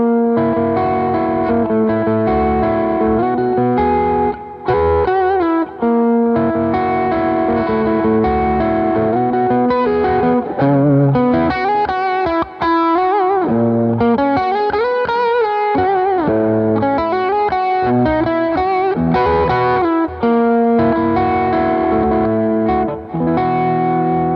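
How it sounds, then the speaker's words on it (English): Gretsch electric guitar with delay and reverb playing through Celestion F12-X200 and F12M-150 full-range speakers and a BOSS unit, loud melodic notes and chords trailing into a lush echoing wash, steady throughout. "it's got this interplay between the warm sound of the guitar and the wash of the delay in the reverb"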